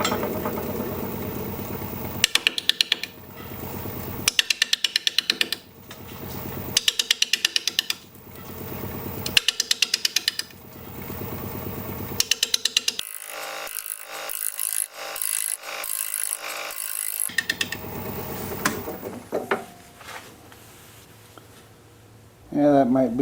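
Sycamore turning on a wood lathe, the tool rubbing and scraping the spinning blank in repeated bursts, then a steadier whirring spindle noise with a tonal whine, close and fairly loud.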